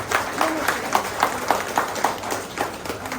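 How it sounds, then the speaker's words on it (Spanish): Worshippers at a religious celebration give a strong round of applause for the Señor de Maica, with a rhythmic clapping pulse under a murmuring crowd at moderate distance. "Vamos a dar un fuerte aplauso al Señor de Maica"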